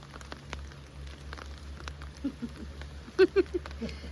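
Soft, steady rain patter with a few brief knocks and taps near the end, no talking.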